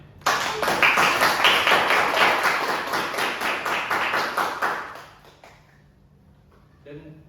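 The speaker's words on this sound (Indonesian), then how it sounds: "Kasih tepuk tangan dulu buat temannya." Classmates in a classroom clap for a friend who answered correctly. Steady group clapping lasts about five seconds, then fades into quiet, with a brief voice near the end.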